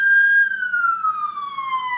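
A single police siren wails in a city with a long, steady falling tone, clear and fairly close, slowly sliding lower in pitch as it passes.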